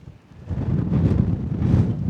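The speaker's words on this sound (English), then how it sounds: "And I'm not hanging round, it's too windy." Strong wind buffets the microphone in rough, rising gusts on a Lake District fell top near Helvellyn, a loud low roar with no voices.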